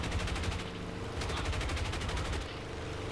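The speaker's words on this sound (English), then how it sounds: "Those bullets flying past me are my teammate." Rapid machine-gun bullets in a War Thunder air battle crackle steadily past, a dense continuous rattle of fire over a low engine drone.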